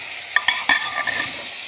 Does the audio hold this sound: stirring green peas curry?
yes